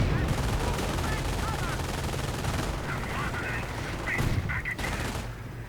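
Machine-gun fire rattles through a strategy game battle, dense and continuous bursts over steady background battle noise, with a few sharper cracks late on under a commentator's voice.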